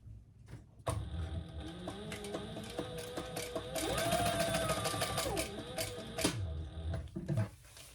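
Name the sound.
sewing machine top stitching a seam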